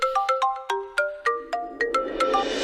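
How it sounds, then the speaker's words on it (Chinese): A phone ringtone plays a quick melodic run of bright, bell-like synth notes in a rapid rhythmic pattern, loud and close, with no speech. "我电话来了。"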